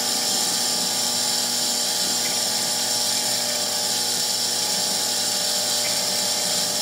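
CNC spindle spinning at about 32,000 RPM while cutting a 20mm triangle pendant with WD-40 as lubricant, a continuous high-pitched whine with a steady grinding edge, close and loud.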